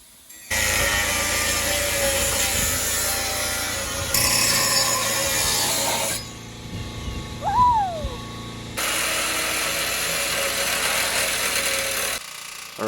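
A power tool cuts through the metal upper control arm mount on a Jeep JL in loud, sustained bursts, with short pauses and a sharp squeal in a quieter gap.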